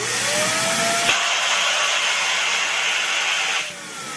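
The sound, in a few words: vacuum pump evacuating a vacuum chamber with a balloon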